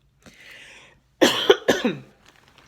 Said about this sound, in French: je suis un peu malade, donc je tousse